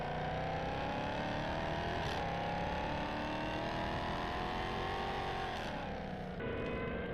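A vehicle engine in Farming Simulator 19 hums loudly and continuously, rising steadily in pitch as it revs up, with brief shifts where the pitch drops and climbs again. No one speaks.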